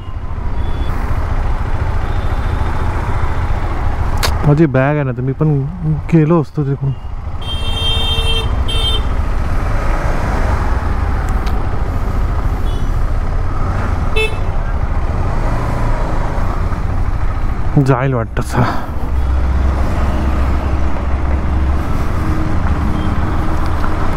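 Heavy, slow-moving traffic on the NH66 Mumbai-Goa highway near Mangaon, heard from inside a vehicle squeezing past along the side: a steady engine and road rumble, with brief horn-like tones around the fifth and eighteenth seconds, under conversational speech.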